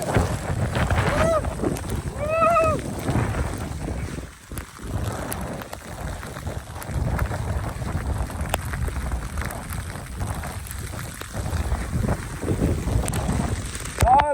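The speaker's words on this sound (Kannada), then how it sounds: "ಮಳೆ ನೋಡಿ ಗಾಯ್ಸ್, ಫುಲ್ ಜೋರ್ ಮಳೆ." Heavy rain pours during a hill trek on Nelji hill, making a steady, loud, dense hiss mixed with wind buffeting the microphone, with a brief voice early on.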